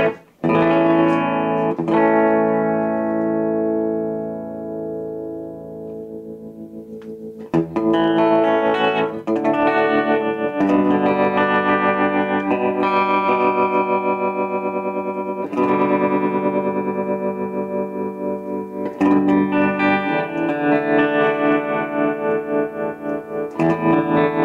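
Guitar played through a mid-1970s Fender Vibro Champ amplifier with mild grit and echo: a ringing chord decays, then strummed chords and melodic phrases follow, ending in tremolo-pulsed notes, no voices.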